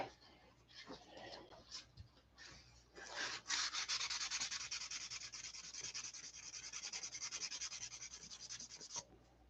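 Sandpaper rubs back and forth across a surface in quick, close, rasping strokes, starting with short scrubs and then settling into a sustained, fairly quiet scouring.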